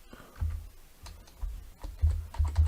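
Keystrokes on a computer keyboard while text is typed into a word processor, a quiet run of soft clicks in short irregular bursts with no voice.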